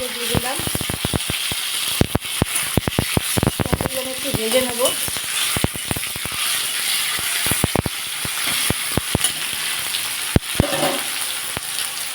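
Bay leaves dropped into hot mustard oil in a wok hiss and sizzle continuously up close, with scattered clinks and scrapes of stirring while a person talks over it.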